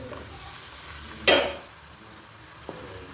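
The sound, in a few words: chicken frying in oil with ginger garlic paste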